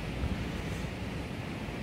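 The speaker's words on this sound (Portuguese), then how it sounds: "Tá ventando bastante, gente." Wind gusts by the sea at Arraial do Cabo, a soft, low buffeting rush with faint surf-like noise, steady and fairly quiet over a brief moment.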